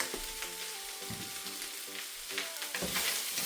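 Ackee and saltfish fried rice sizzles in a hot pan while being stirred, a constant crackling fry broken by rhythmic scraping strokes of the utensil, close and loud with no talking.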